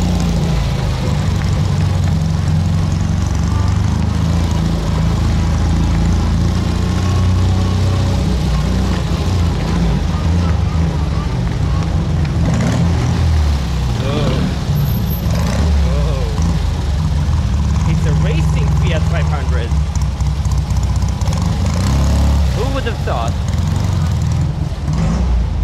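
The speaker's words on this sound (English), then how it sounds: "Look at those old Fiats." Old Fiat cars roll by on a Rome street, a steady loud rumble of small engines and traffic running throughout, with voices talking over it.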